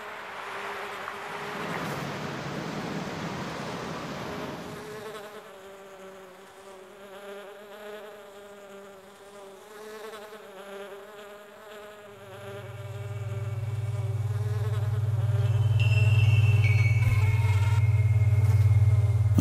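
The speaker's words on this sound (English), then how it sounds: "God, I hate that buzzing. The developers sure got that sound effect on the nose." A fly buzzes in The Plan video game, a thin wavering drone that rises and falls in loudness, joined later by a low steady hum that grows louder toward the end.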